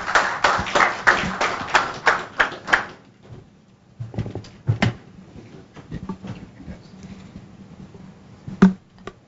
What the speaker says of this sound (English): Applause, ladies and gentlemen.